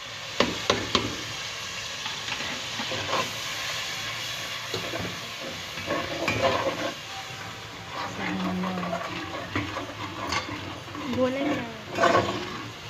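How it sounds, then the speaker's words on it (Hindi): Ground spices and chicken sizzle and hiss in hot oil while being sautéed for a chicken and chickpea curry, a continuous frying crackle with occasional stirring clatter and bursts of louder sizzling. "अब आप लोग इसे अच्छे से भून लीजिए"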